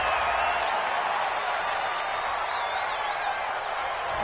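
A home crowd at a college football game cheers a referee's call, a broad steady roar of distant voices with a few whistles rising through it, no clear speech.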